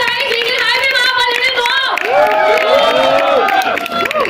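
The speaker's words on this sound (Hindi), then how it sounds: "गाइस प्लीज जोरदार तालियां हो जाए." Audience clapping and cheering at a song launch event for Mr & Mrs Maahi, a steady crowd din lasting throughout, with raised voices and whoops over the applause.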